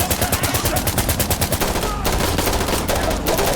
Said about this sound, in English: We're shooting at figures in the smoke clouds.